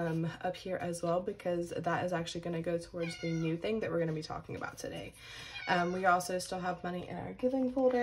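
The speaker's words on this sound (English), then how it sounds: "they always like to talk to you. That today is that lovely meow." A pet cat meows insistently several times nearby, its drawn-out calls mixing with a person talking steadily indoors.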